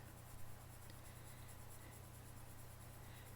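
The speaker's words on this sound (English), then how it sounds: "Let's take our 2B pencil, freshly sharpened, and we're going to use a circular stroke," Freshly sharpened 2B pencil shading on paper with small circular strokes, a very faint, soft continuous scratching close to the microphone.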